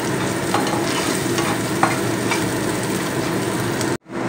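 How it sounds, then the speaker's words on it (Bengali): Onions fry with ginger paste in a pan, making a continuous loud sizzle with faint stirring scrapes until it cuts off abruptly near the end. "আমি যতক্ষণ না আদা রসুনের কাঁচা গন্ধ যাচ্ছে ততক্ষণ পেঁয়াজের সঙ্গে কষিয়ে নিতে হবে"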